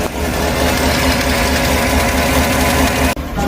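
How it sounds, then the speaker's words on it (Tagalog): A car engine with a misfire idles loudly and close up, a steady rough rumble with uneven pulsing throughout, cutting out briefly near the end. "so engine misfire"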